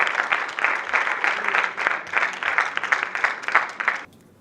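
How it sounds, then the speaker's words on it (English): An audience at a dental scientific conference session claps after a lecture, with about four seconds of full, steady applause that stops abruptly into quiet. "Ladies and gentlemen, can we have a big round of applause?"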